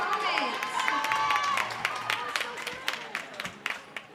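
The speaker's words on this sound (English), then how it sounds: "With the dramatic finish, you can hear the crowd going crazy" At a jump rope national championship, a crowd cheers and claps after a dramatic finish. Shouts and whistles rise loudly at first, then thin into scattered claps and calls.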